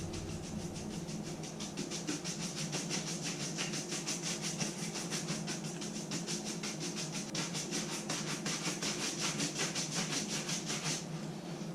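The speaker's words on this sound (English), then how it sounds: "when you buff it, all you're doing is rubbing these bristles across it real fast" Brush bristles are rubbed rapidly over a leather boot while buffing it, making a fast, even, rhythmic scrubbing that keeps a steady pace for about eleven seconds, fairly quiet and with no talk.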